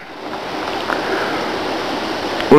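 Water rushes steadily at a hydroelectric dam set among farmland and natural scenery, a continuous broadband roar like a stream or weir, heard from nearby at an even level throughout.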